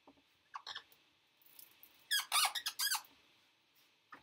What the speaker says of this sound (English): Sorry for all the squeaking.